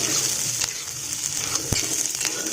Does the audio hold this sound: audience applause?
no